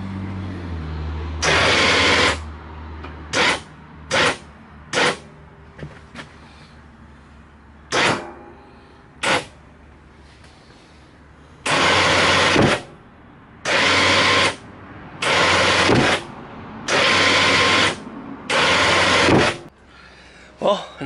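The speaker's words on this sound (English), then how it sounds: "Just hook the winch cable to the front and up she goes." An ATV winch hauls a snow plow up in bursts, each loud whine of the winch motor lasting a second or two and separated by pauses, with several short taps and a longer run of repeated pulls near the end.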